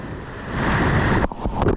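Ocean surf at a surf spot, a broad continuous wash of breaking waves with wind noise, loud and steady, cutting off abruptly partway and then returning as choppier bursts of water.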